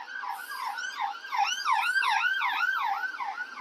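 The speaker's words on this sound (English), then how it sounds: "There we go, ambulance." A wailing ambulance siren sweeps up and down repeatedly, loud and close, swelling as it passes with no talking.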